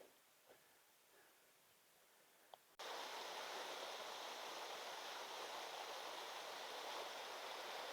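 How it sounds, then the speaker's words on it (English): A small waterfall on a Lake District stream: quiet outdoor ambience and a few light knocks, then a close, loud, steady rush of falling water that continues without a break. "There's another little waterfall at the bottom here."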